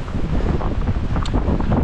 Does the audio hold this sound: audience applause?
no